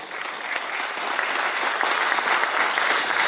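A crowd claps in sustained applause at an International Day of Indigenous Peoples event in Cajamarca, Peru, a dense patter of hands that swells slightly and holds steady for a few seconds.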